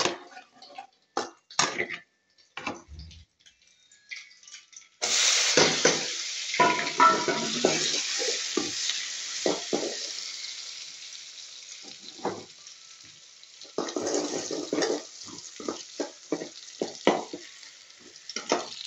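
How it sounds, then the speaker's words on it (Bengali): Eggs scrambling in a frying pan: scattered clicks and taps at first, then a sudden loud sizzle as the eggs hit the hot oil, continuing with stirring scrapes and fading and returning bursts of frying, close up without talking. "এখানে ডিমের বোনা, ডিম বোনা করতেছি"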